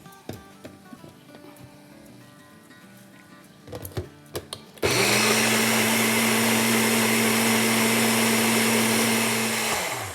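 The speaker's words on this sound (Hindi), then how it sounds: "और उसको ब्लेंड करेंगे" A countertop blender whirs loudly and steadily at full speed, blending white vinegar with salt and sugar into a smooth puree, starting abruptly after some quiet kitchen clatter.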